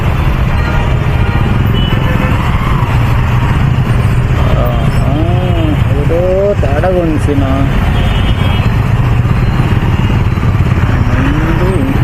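Heavy night traffic in Hitech City, Hyderabad, with cars and motorcycles rumbling and revving in a dense, continuous roar, horns sounding midway; voices talk over the traffic throughout.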